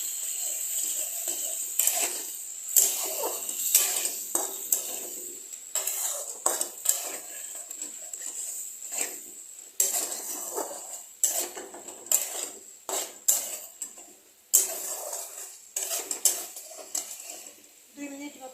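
Fried potatoes and rohu fish are stirred in a pan over medium gas, a metal spatula scraping and clanking against the pan in irregular bursts, close and moderately loud, with quiet gaps between strokes.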